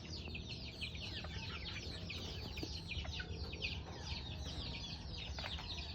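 Backyard chickens clucking and chattering nonstop, many overlapping calls at close to mid distance over a low steady rumble of farmyard background noise.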